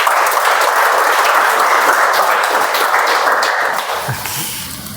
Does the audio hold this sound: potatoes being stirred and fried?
no